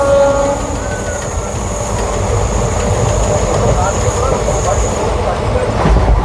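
The Kolkata to Puri special passenger train runs near Kolaghat just past the Kolaghat bridge, a loud continuous rumble and rattle of wheels and carriages heard from on board, with faint high squeal.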